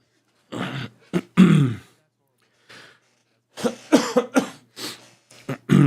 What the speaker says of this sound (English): I might be coughing a lot